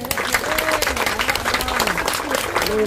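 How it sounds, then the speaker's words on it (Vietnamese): A crowd applauds steadily and loudly, dense clapping throughout with a few voices and some high whistling or squeaks mixed in. "Đề nghị các bạn thưởng cho bạn một tràng pháo tay"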